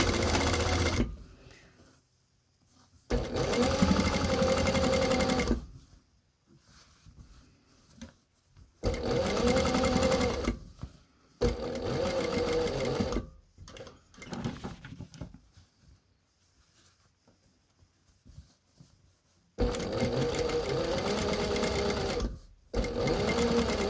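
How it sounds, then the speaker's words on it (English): A sewing machine stitches the top shaped edge of a fabric face covering in four or five loud, close bursts separated by quiet pauses with faint handling noise. "I've stitched that along the top edge with the 1/4 inch"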